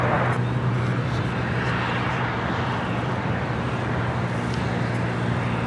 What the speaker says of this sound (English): Next takeoff here on the south side is Avianca Flight 523 heading to San Salvador